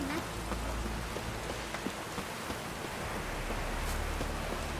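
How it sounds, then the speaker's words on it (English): Rain falling in The Witcher 3, a soft, even hiss of drops over a steady low rumble that holds throughout at a quiet level with no speech. "It's raining."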